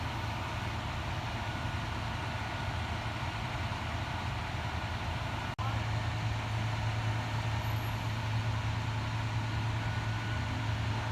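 A bucket truck with a ladder runs at a steady idle on a residential street during an emergency response to a tree in electrical wires, with a constant low engine rumble and a brief click partway through.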